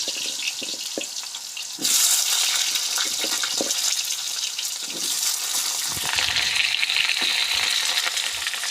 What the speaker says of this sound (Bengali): তেলটা আমাদের গরম হয়ে গেছে, আমরা আলু আর পটলগুলো দিয়ে দিব